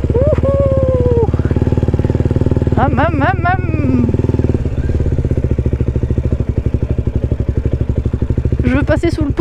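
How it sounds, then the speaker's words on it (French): KTM off-road motorcycle ridden across a field, its engine a loud continuous rasping drone from start to finish, with an excited voice whooping over it. "c'est trop bien, regardez, du tout-terrain en KTM"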